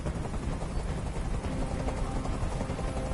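Steady, loud helicopter rotor drone from a hovering helicopter in the video game Detroit: Become Human, a continuous broadband roar with no pauses and no voices.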